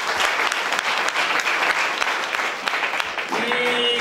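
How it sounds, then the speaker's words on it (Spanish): A church audience claps in steady, dense applause that fills the space throughout, with a voice speaking over it near the end. "Sí, van a brindar fuertes aplausos."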